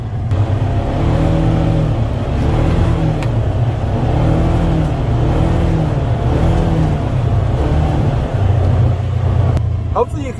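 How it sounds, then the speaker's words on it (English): A Polaris Ranger XP 1000 side-by-side engine revved near full throttle, a loud sustained drone that rises and falls in repeated throttle surges with a heavy low rumble throughout. "Now I'm gonna almost floor it. And I'm gonna kind of throttle the gas."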